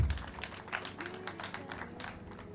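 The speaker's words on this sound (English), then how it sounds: "Clap for yourselves." Audience applause at an International Albinism Awareness Day celebration in Mukono District, Uganda: a dense, steady patter of many hands clapping at moderate distance, sustained throughout without a break.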